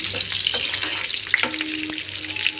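Thinly sliced chillies fry in a pan for a snake gourd yogurt chutney, a steady sizzle broken by a few light stirring scrapes, close and moderately loud with no talking.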